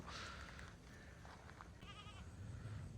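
A flock of sheep moves with a runner along the path around a reservoir, bleating a few times at moderate distance over steady outdoor background noise, with no talk.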